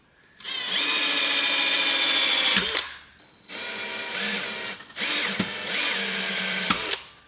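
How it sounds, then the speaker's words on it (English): A power drill whirs loudly in three bursts drilling pilot holes in a homemade surface fishing lure, the first long, with brief pauses between as the bit bites and spins down. "I'll get to drilling some pilot holes and stuff."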